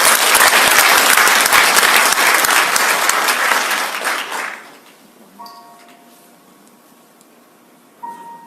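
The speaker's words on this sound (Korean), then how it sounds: "박수로 맞아주십시오" An audience breaks into loud, dense clapping at a talk concert to welcome a performer, holding strong for several seconds before fading out, followed by a few faint tones and a sudden knock near the end.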